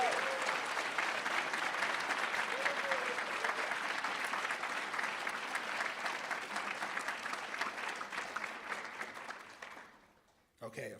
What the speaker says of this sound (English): I'd like a round of applause for the SVs.